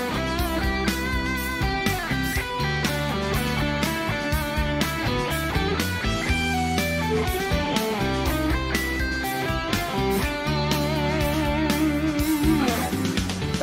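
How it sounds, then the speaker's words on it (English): Guitar plays triad arpeggios over a full, loud backing track with drums, the picked notes running steadily through the whole stretch. "let's start by taking a look at some triad arpeggios"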